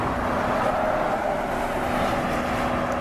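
Steady roar of traffic on a highway as a run of vehicles passes close by without pause, a continuous broadband wash with no talking.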